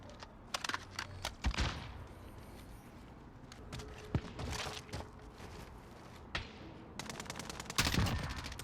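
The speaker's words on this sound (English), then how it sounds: "M4 hitting those super far off shots as well" M4 rifle fire in the Modern Warfare video game, heard during a Search and Destroy match: a few sharp single shots, then short bursts of rapid cracks, scattered through a quiet stretch and fairly close.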